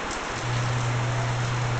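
Heavy rain falling as a dense, even hiss, loud and close, with a low steady hum joining partway through.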